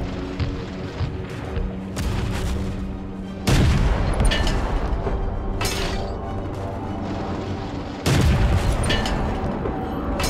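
Panzer tank cannon shots in a video game ring out as heavy booms, with big blasts near 3.5 and 8 seconds over a steady rumbling battle background.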